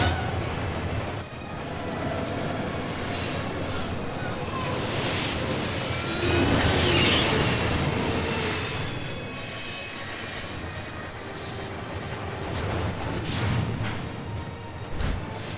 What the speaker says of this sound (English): That's because it's a spooky train cutscene.